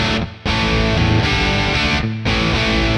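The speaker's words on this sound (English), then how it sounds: "When I hit the second patch, it turns on the distortion channel of my amp" A guitar plays loud and saturated through the amp's distortion channel, switched on from a NUX Cerberus multi-effects pedalboard, with thick sustained chords broken by two brief drops between strums.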